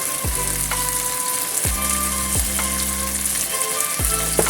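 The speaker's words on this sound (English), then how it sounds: "Stir fry a little bit." Beef tendon stir-fried in a wok with cooking wine and light and dark soy sauce, giving a steady loud sizzle broken by several sharp scraping strokes of the spatula at a regular pace.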